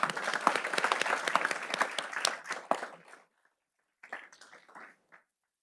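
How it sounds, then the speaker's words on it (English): An audience at a school Board of Education meeting applauds an honoree with a dense burst of clapping that fades out, followed by a brief pause and a second, smaller round of clapping. "So let's clap for Alejandra."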